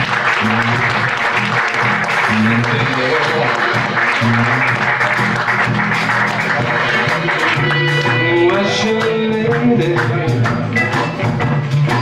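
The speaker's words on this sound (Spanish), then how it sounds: "un aplauso por favor" Applause in a pub for a blues band, loud and sustained over the band's ongoing music as the players are introduced.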